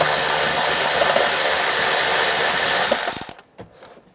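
A ratchet with a 10mm socket backs out a bolt on a 2007-2013 Chevrolet Silverado, giving a loud, steady buzzing whir for about three seconds that cuts off and is followed by a few faint clicks.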